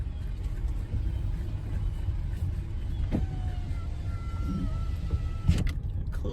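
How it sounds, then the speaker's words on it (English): Power windows on a car hum shut while it idles or creeps along a wooded trail, a faint motor whine over a steady low vehicle rumble. "I close my windows because"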